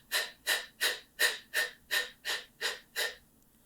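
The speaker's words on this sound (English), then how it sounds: "we take short puffs out. So we stress the muscles every time we breathe out like this" Nine short, forceful puffs of breath are pushed out in an even, steady rhythm during a vocal breathing exercise. Each puff is close and clear, with a brief silence between them.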